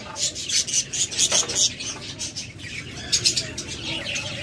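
Lutino red-eye pet birds, bright yellow with red eyes, give bursts of high chirps and twitters alongside soft wing flutters and light rustling, nearby and uneven in rhythm.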